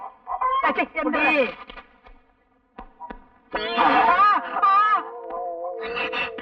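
Chickens cluck and squawk close by in uneven bursts, with brief pauses between the outbursts.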